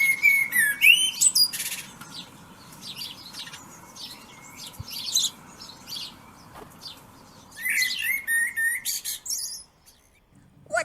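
Bright bird chirps and whistled calls in bursts, several birds twittering close by, with quieter pauses between flurries and a final burst near the end.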